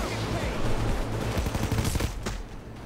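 Gunfire rattles in a Payday 2 heist at an art gallery: a quick volley of loud shots cracking in close succession, with a sniper rifle in the fight, then tapering off.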